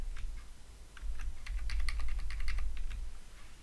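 Quiet, quick typing on a computer keyboard as a new password is entered, a rapid irregular run of light clicks over a faint low hum.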